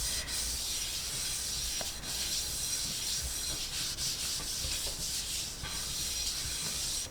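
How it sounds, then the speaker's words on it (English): A cloth or paper towel wiping excess oil from a pan while making fresh-skinned popiah spring rolls, a close, continuous soft rubbing and scrubbing hiss with brief pauses between strokes. "So you clean the pan of excess oil."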